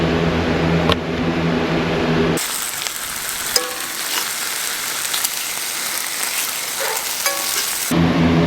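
Bacon sizzles in a pan at a camp site with a steady hiss and crackle. In the middle stretch the frying sounds thinner and brighter, with occasional small clinks.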